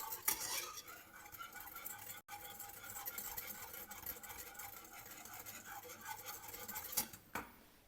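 A utensil scrapes and clinks steadily against a pot while a lemon mousse mixture is stirred over medium heat, a quiet continuous rasp with a few sharper knocks and a brief pause.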